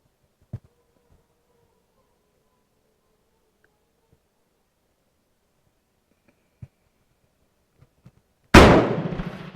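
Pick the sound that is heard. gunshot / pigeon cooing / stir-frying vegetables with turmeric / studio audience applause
gunshot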